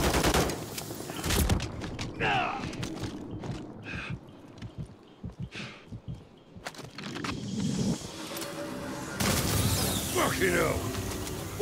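Gunfire aimed at a helicopter during a Call of Duty Modern Warfare 3 campaign mission, with repeated close bursts and rattling volleys mixed with booms and battlefield noise under radio-style voices talking.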